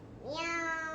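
A toddler imitates a cat's meow with a single rising, drawn-out vocal "meow" that lasts under a second, close and clear against a quiet room.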